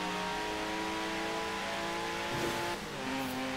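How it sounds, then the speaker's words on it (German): A Porsche boxer engine in Forza Horizon 4 revs steadily with rising and falling harmonic tones, loud and close, with a brief tire squeal near the end and no talking. "Der Sound geil von Porsche. Diese schönen Boxermotoren."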